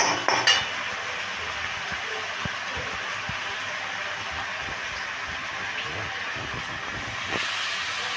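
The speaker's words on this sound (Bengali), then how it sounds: "ভালো করে কষিয়ে নিচ্ছি।" Garlic and ginger paste being stirred and sautéed in a pan, a steady low sizzle with soft scraping and occasional utensil knocks against the pan, close and alone.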